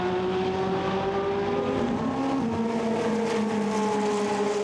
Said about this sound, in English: So maybe there was a late switch on the tyre choice from the number 66 Porsche as it comes now up towards the line.